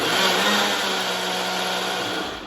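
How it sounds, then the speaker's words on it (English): A blender pulses lentils and water into a smooth paste, a loud close whirring motor roar running steadily and then dropping off at the end, with no talk. "going to pulse the blender and try and get this into a smooth paste"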